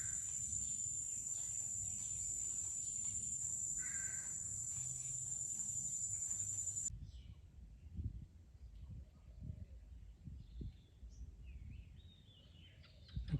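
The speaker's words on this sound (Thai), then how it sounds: "อีกามาแล้ว" A crow caws a few times at some distance, alongside steady cricket chirping and faint outdoor background noise.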